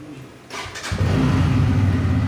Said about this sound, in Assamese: তো একবাৰ মানে গাড়ীখন অন কৰি দেখুৱাই দিছোঁ